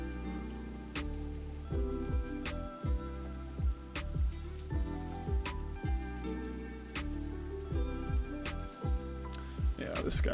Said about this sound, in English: I'm listening to rain in the game.